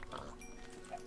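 Pig oinking in Minecraft, a short grunt heard faintly behind game sounds and background noise, with a voice talking underneath.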